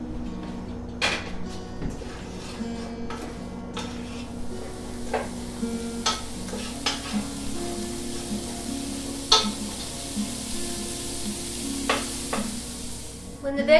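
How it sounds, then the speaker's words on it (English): Onions and vegetables sauteing in a pan for chili beans, a soft continuous sizzle with intermittent spoon stirs and scrapes and occasional clinks of cookware, close and moderately quiet. "So now we're going to saute the onions and vegetables until they're tender."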